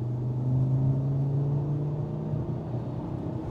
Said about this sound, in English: Look, kick down. This is a kick down.